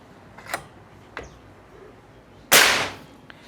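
A big-game PCP air rifle fires its fourth shot, a single sharp loud crack with a brief hissing tail, preceded by a few small clicks and taps of handling in a quiet setting.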